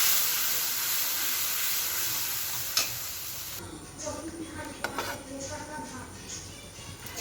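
Spice paste for fish curry sizzles and hisses in a frying pan, with stirring scrapes; the sizzle is loud at first, then softens to a quieter bubbling with occasional clinks.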